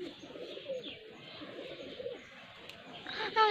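Pigeons coo softly beside a Chakma house in Rangamati, low repeated burbling calls under faint ambient noise, with a few higher chirps near the end.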